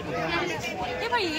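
Dense crowd chatter fills a Durga Puja pandal in North Kolkata, a steady close hubbub of many overlapping voices with no pauses.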